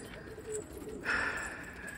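Pigeons kept in a coop give a soft, muffled coo at about mid-clip, followed by a brighter call at moderate volume over a steady background hum, with no talking.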